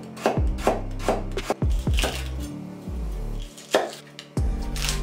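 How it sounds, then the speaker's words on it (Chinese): Carrots sliced with a knife on a cutting board, a run of crisp, evenly spaced chops ringing close and clear, with short pauses between strokes and no talking. "还有胡萝卜切片备用。"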